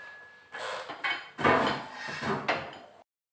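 Boiled squid is strained in a pot at a home kitchen as water drains off, with a few clanks of metal and bursts of splashing and pouring over about three seconds.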